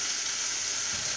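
Chicken breasts fry in a covered pan, giving a steady, close, even sizzle with no pauses.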